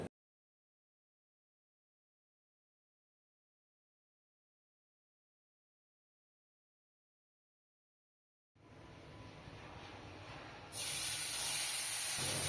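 Ghee, cumin, bay leaves, dried red chillies and whole garam masala sizzle in hot oil for a Bengali paneer dish; after long silence a loud, steady frying hiss begins and grows stronger near the end, with no talking.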